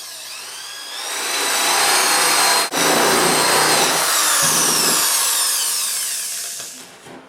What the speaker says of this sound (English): drill a 3/4 inch hole